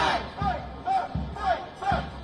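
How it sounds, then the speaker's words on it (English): A pro-Palestine protest crowd marches in New York behind police barriers, chanting slogans in a steady rhythmic call repeated about five times, moderately loud and a little distant. "They carried banners, signs and Palestinian flags and chanted slogans demanding for justice"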